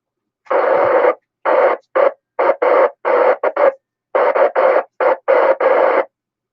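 A station transmits on a ham radio FM net, heard as bursts of radio-filtered voice with hard on-off breaks between them, clipped and noisy over about six seconds.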